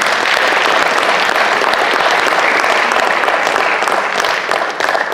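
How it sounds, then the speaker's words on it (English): A large school assembly of student athletes and parents breaks into loud, dense applause that holds steady for several seconds before easing slightly at the end. "give yourselves a round of applause for earning that."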